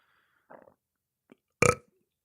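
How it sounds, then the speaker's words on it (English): A single short, loud burp erupts after a couple of faint mouth noises, close to the microphone and with no talking around it. "I'm leaving that burp in"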